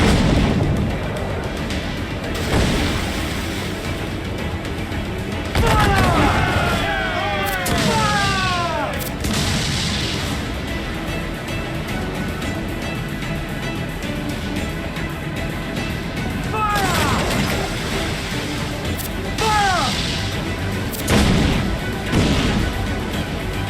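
Ship cannons in Assassin's Creed Black Flag fire in loud repeated volleys, booming blasts in several bursts separated by rumbling pauses, with shouted voices over the battle.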